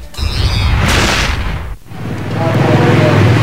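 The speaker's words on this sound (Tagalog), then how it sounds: "Kitang-kita sa kuha ng CCTV ang tindi ng pagsabog ng umano'y sumingaw na LPG" A loud, sudden LPG tank explosion from leaked gas, caught on CCTV in Paco, Manila: a heavy low boom, followed by a brief dip and then sustained rumbling noise.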